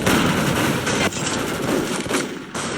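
Rapid shotgun blasts in the game MicroVolts: Recharged, loud and close, several sharp reports in quick succession over dense game noise, with no talking.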